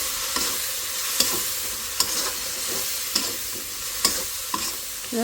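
Large prawns stir-fried in a pan: a steady, close sizzle runs throughout, broken by sharp scrapes and clicks of the spatula about once a second.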